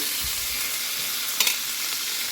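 Peanuts and green chillies fry in a pan with a brief, even, close sizzling hiss and one small clatter from stirring.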